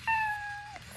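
A Chongker MateCat Pro interactive robot cat gives a single clear, close meow lasting under a second, with a faint second chirp at the end and a low background hum.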